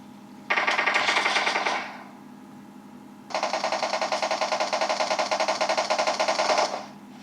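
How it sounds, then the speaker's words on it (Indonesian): Two bursts of rapid automatic gunfire from a mobile video game played on a Realme 8 5G phone, a short volley followed by a longer sustained one, loud and close. "di mana tuh tembakan tuh?"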